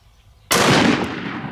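A single sharp, loud rifle report cracks out after a short quiet lead-in from a 450 Marlin loaded with Buffalo Bore 430-grain hard cast rounds, followed by a booming outdoor echo that slowly fades.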